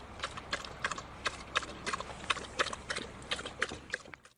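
A dog drinking water laps in a quick, even rhythm of about three laps per second, close and clear over low background noise.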